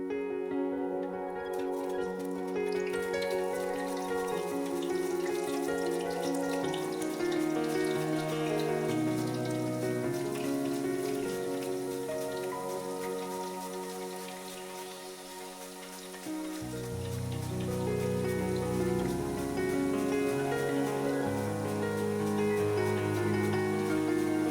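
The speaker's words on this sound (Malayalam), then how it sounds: "എണ്ണ പാകത്തിന് ചൂടായിട്ടുണ്ട്. ഇനി നമുക്ക് കായ എടുത്ത് സ്ലൈസ് ചെയ്ത് ഇട്ട് കൊടുക്കാം." Banana slices fry in hot oil with a dense, steady crackling sizzle like rain on a surface; it eases briefly past the middle, then picks back up.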